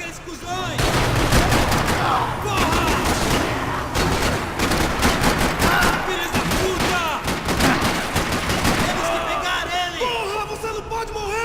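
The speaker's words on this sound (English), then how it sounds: "Parking lot rattling with gunfire." Rapid bursts of gunfire crackle continuously in a parking lot in the video game Max Payne 3, with sharp repeated shots and shouting voices mixed in, loud and close throughout.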